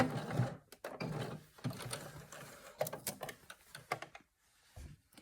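A sewing machine runs in short stop-start bursts while backstitching at the end of a seam on a scrunchie, with mechanical clicks and whirring up close between brief quiet gaps.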